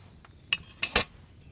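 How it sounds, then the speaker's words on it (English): Wine boiling in a cauldron over a fire in the video game Kingdom Come: Deliverance 2 gives a few short, soft sizzling bubble bursts against a quiet background. "Hear that bubbling? It's boiling."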